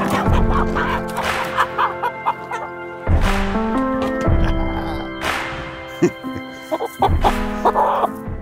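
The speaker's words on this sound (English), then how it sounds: "This is our chicken coop." Chickens in a backyard coop cluck loudly and close up in overlapping bursts, with rising squawks and calls breaking out every few seconds.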